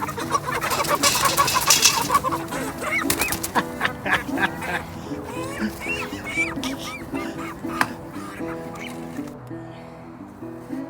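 Around fifteen live chickens cluck and squawk loudly in a coop before processing. The calls overlap busily at close range, and a few honking cries stand out.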